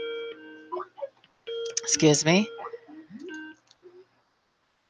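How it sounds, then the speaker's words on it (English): An alarm sounds in short repeated tonal beeps that start and stop, and a person speaks briefly over it. "That was my alarm"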